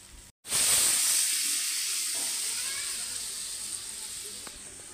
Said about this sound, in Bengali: এখন আমি ঝোল দেব।